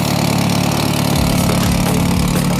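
A VW Saveiro Turbo engine runs with an exhaust leak at the turbocharger outlet, giving a loud, close, steady mechanical drone with a rapid puffing, ticking pulse layered over the idle.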